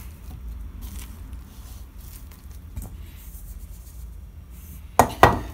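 Flour is mixed by hand into a high-hydration pizza dough, giving soft continuous rustling and pattering close by that ends in two sharper knocks against the bowl.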